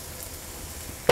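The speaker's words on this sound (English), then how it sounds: "now I'm going to cook that for an additional minute just to get the green onions softened and the garlic cooked a little bit" Green onions and garlic cook in a pan for spanakopita, giving a faint, steady sizzle close by that ends in a brief sharp clatter.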